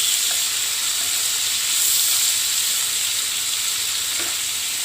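Green chilies and chopped ginger fry in a pan for a Bangladeshi tangra fish curry, giving a steady, loud sizzle with a soft crackle that holds evenly throughout, with no talk over it.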